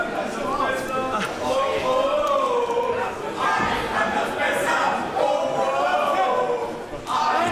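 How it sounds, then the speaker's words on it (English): Wrestling fans in a packed Kreuzberg hall jeer at Aytac Bahar. The crowd noise is loud and continuous, with chanting and shouting rising and falling across the whole stretch. "The crowd are trying to irritate Aytac Bahar, no doubt."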